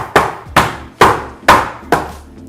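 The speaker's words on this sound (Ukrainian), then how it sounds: "Тепер цю масу потрібно отак от постукати по столу." Five firm, evenly spaced knocks ring out as a pan of curd cheesecake batter is tapped against a table. Each is close and loud, with no talk.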